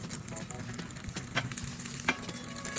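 An egg fries in a pan with a continuous close sizzle, punctuated by a few sharp spatula scrapes and taps.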